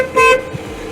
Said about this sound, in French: Je mets l'autre klaxon.